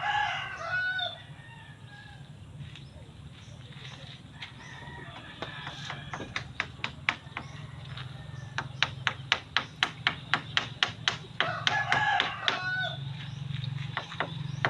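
Chickens and a rooster around a hollow-block making site, with several crowing calls and clucks at moderate distance, mixed with a rapid run of sharp tapping clicks in the middle.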